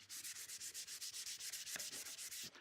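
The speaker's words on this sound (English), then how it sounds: "For sanding down paint, things like this, 100 grit sandpaper is absolutely fine." Rhythmic, raspy scraping of 100-grit sandpaper rubbing back and forth over a painted surface, quick even strokes repeating steadily, close up with no talking.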